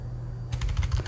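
Computer keyboard arrow keys are pressed in a quick run of soft clicking taps, close and fairly quiet after a brief silent start, with no talk over them.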